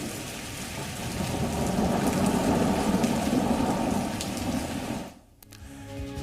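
Heavy rain pours during flooding in Rajasthan, a dense, steady roar of water that ebbs near the end before an abrupt cut to quieter sound.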